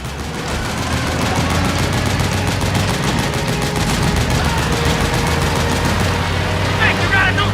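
Rapid automatic gunfire in Metal Gear Solid 4, shooting at a gate, crackles in a steady unbroken stream, loud and close, over a low engine-like drone, with a voice shouting briefly near the end.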